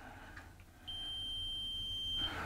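A multimeter on continuity setting gives a single sustained high-pitched beep lasting just over a second while probing a damaged electric floor heating cable, heard alone against a quiet room.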